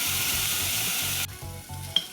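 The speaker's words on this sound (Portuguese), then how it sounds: "Então eu vou deixar ela dar uma fritada inicialmente." Onion frying in a pan for a blender sausage cake, a bright continuous sizzle that suddenly drops away partway through, followed by soft low bubbling and a short clink.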